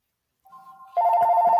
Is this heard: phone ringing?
yes